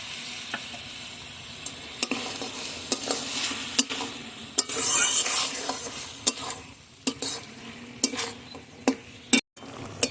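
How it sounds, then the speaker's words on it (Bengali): Chicken skin and liver fry with ground spices and garam masala paste in a pan, a steady sizzle broken by frequent sharp scrapes and clinks of stirring, with no talking. "মশলার সঙ্গে এখন আমি কষিয়ে নেব এখন গরম মশলা বাটাটা দিয়ে দিচ্ছি"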